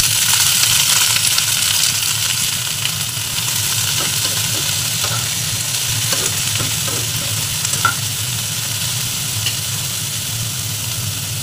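Onion sizzles steadily in a hot pan with spring onion, potato and carrot as filling for a vegetable egg kachori, a loud continuous hiss broken by occasional stirring scrapes.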